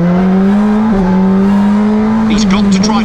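McLaren 720S GT3X race car at full throttle, a loud steady engine drone holding pitch before a brief dip and rising again near the end, with a faint voice underneath.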